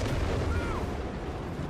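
Mortar fire rumbles in Company of Heroes 3, a dense, steady low booming barrage of World War II artillery that continues without pause and without speech.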